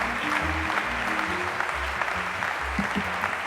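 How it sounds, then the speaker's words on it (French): Applause fills the hall at an award ceremony for bicycle-friendly cities: steady, brisk clapping from a seated audience, moderately loud and continuous, with low murmurs and stage sounds underneath. "je demande un tonnerre d'applaudissements pour Jean-Baptiste Gernet"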